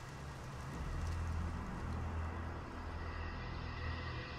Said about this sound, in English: and it begins to rain.